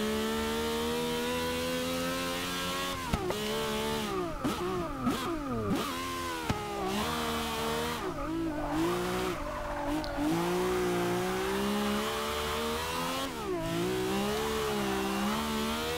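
Engine of a Logitech G car in Forza Motorsport 6 rising and falling through revs, a loud continuous harmonic drone with quick throttle lifts and shifts, mixed with tire squeal, no talk.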